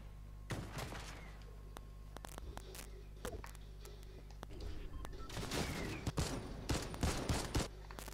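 Video game gunfire crackles in repeated bursts and scattered single shots, growing denser and louder toward the end, with muffled game noise underneath.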